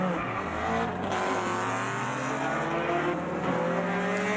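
A Honda Civic touring race car launching in a United States Touring Car Championship race drones at high revs, a sustained layered whine that holds steady with slight pitch shifts; no talking.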